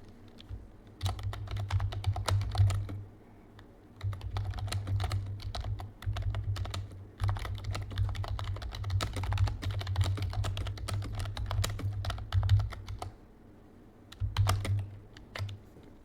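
Typing on a computer keyboard: rapid, continuous key clatter in close bursts, broken by short pauses, with no talking over it.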